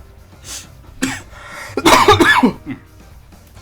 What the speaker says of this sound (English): the cough came out of nowhere